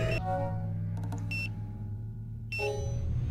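Electronic alarm in the video game Psi-Ops: The Mindgate Conspiracy, repeated steady beeping tones in bursts over a low background drone, clear and close with no talk.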